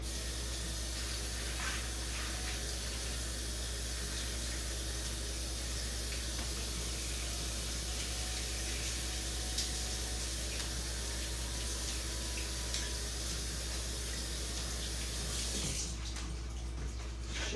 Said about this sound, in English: I'm gonna rinse it out in the water.